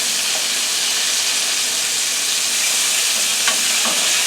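Buttermilk-coated chicken wings frying fast in hot oil give off a loud, constant sizzle and hiss, dense and unbroken, with a couple of faint clinks partway through.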